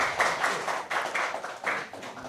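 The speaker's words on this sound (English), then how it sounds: "Ladies and gentlemen, give applause." Audience applause at an international public lecture on China–Indonesia Belt and Road cooperation, a steady patter of hands clapping in a hall with rhythmic swells, moderately distant and without talk.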